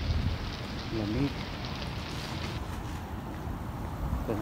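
Cold rain falls steadily outdoors, a dense even hiss of drops on surfaces close by, with faint wind and a brief voice in the background.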